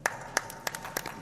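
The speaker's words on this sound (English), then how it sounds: "So random applause for you guys." A handful of people at a partner workshop session clap sparsely, producing a few distinct, moderately faint claps spread over about a second.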